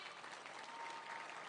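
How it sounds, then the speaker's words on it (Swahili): A crowd at a public gathering in Nakuru County, Kenya, claps in a dense, continuous burst of applause, moderately distant and even throughout. "Pigia makofi."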